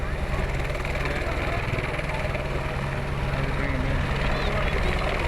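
A Eurocopter A-Star 350B3 helicopter in flight makes a continuous rotor and engine roar at fairly constant loudness, with voices talking over it.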